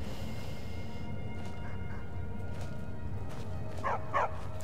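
Armored dogs in the Skyrim video game give a few short, faint barks and yips over a low ambient game background, the clearest two coming close together near the end.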